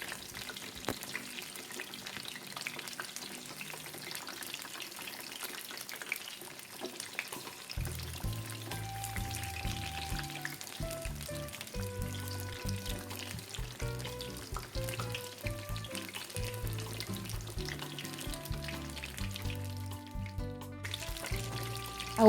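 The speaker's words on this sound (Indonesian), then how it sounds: "Lalu kita goreng tahunya sampai matang kecoklatan." Tofu pieces fry in hot oil with a steady, soft sizzle, alone at first; after several seconds, music comes in and plays over the continuous frying hiss.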